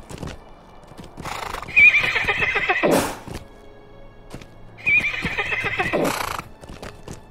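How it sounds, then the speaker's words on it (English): In the Lord of the Rings Online game, a horse gives two loud whinnies a few seconds apart, each followed by a heavy landing thud, with a quick rhythmic clip-clop of galloping hooves throughout. "use your horse. Because your horse has a longer run or a longer jump."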